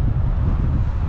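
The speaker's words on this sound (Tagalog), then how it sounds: "Ang lakas ng hangin eh." Strong wind blowing along a road at Pagudpod, a steady loud low rumble of wind buffeting the microphone throughout.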